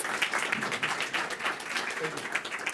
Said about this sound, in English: Big applause to him, and also to me